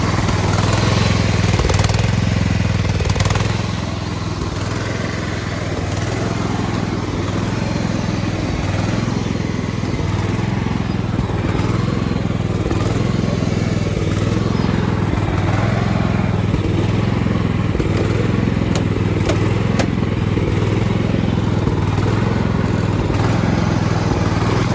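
A Craftsman AYP riding mower with a relocated clutch runs close by, its small engine chugging loudly and steadily with a rhythmic throb and occasional clanks, no talking.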